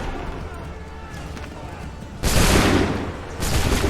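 Musket volley fire in Assassin's Creed III: a loud massed fusillade of many muzzles erupts at once, followed a moment later by a second roaring volley, over a low battlefield rumble.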